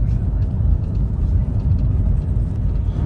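A Ford Escape rolls through a village at roughly 60–65 km/h, its cabin filled with a steady, low engine and road rumble that holds evenly throughout.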